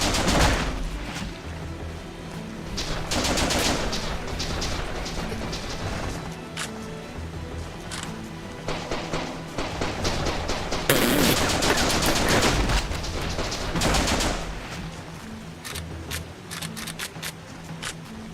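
Rapid automatic gunfire and bursts of shots from the 2014 Japanese first-person shooter The Legend of Alfur, loud and dense in repeated volleys with brief gaps.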